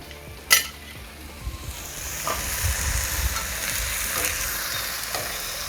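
Thin sirloin steaks searing in a hot pan on an outdoor barbecue, a steady close sizzle with a sharp metal clink at the start and a few scraping touches of a utensil.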